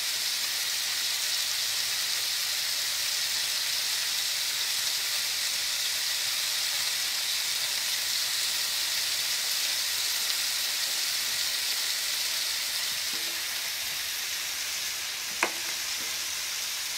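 Scallops sear in a hot pan on the stovetop, giving a steady, close sizzle that runs unbroken throughout, with one sharp click near the end.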